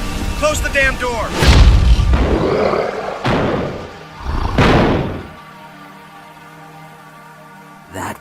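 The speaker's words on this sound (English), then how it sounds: "Close the damn door!" A cartoon door slams shut with heavy thuds and booming bangs amid a hurried chase, while animated characters shout and talk around the impacts.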